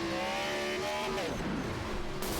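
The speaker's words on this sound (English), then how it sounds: "violent impact there, and you hear the engine let go for Dylan McDonald's machine." Race car on a stock-car oval during a National Series event, its engine note sweeping down as it crashes and the motor lets go, then harsh broadband noise and skidding, all loud and continuous under commentary talk.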